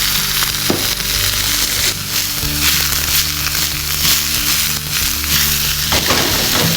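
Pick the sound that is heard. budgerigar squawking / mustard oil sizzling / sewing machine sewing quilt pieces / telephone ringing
mustard oil sizzling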